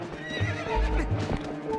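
Epona, the horse in the video game Zelda: Twilight Princess, whinnies and neighs up close while hooves clip-clop in a rhythmic patter beneath, with game effects mixed in and no talking.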